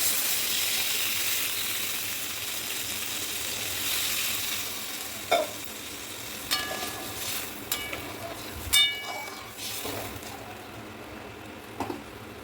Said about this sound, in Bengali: এবার আমি ঝোল করার জন্য জল দিয়ে দেবো।